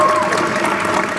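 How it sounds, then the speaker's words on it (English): An audience applauds and cheers for a guest named Danny and his family at a Clark County Latino youth event keynote, a loud, dense burst of clapping with crowd noise and voices throughout. "So can we give Danny and his family a huge round of applause and shout out?"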